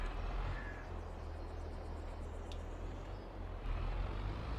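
A large JCB tractor engine in Farming Simulator 22 drones steadily with a deep, constant rumble, loud and unbroken, with no talk over it.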